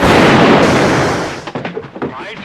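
A gunshot in the 1974 film Chinatown, a loud broadband blast that rings out for about a second and decays, followed by quieter scattered sounds and faint movement.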